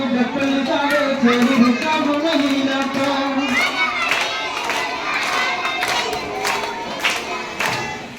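At a Kerala school entrance festival, a group of children claps in rhythm while chanting and shouting together. The quick claps stand out clearly in the second half over their loud, lively voices.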